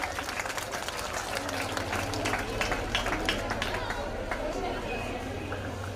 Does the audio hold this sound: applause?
yes